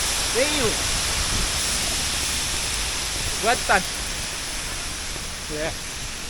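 Water rushing loudly and steadily as a continuous roar at a river outing, with brief bird calls and a few short spoken words over it.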